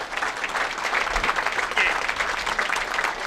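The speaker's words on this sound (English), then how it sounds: "Let's give them a round of applause." Spectators at a professional women's bowling tournament, the PWBA Rochester Open group stepladder finals, give a sustained round of applause, with dense overlapping clapping that stays even and fairly loud throughout.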